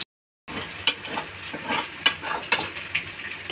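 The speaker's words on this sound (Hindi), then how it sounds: "तो प्याज को अच्छे से भून लेते हैं" Onions fry in a pan with a constant close sizzle after a moment of silence, dotted with soft scraping clicks from stirring.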